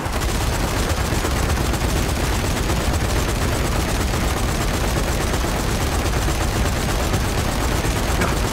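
Dense, rapid gunfire from the video game Meat Locker roars without pause, a loud barrage of overlapping shots that fills the whole stretch with no clear gaps and no speech.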